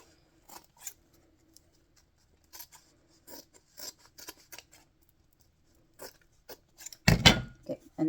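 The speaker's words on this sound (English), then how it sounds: "I will usually take some scissors and cut this extra fabric off just to reduce some bulk" Scissors snip through excess fabric while making a no-sew LARP arrow cover: a few sparse, soft cuts and rustles near the mic, ending in a louder burst of crunching snips.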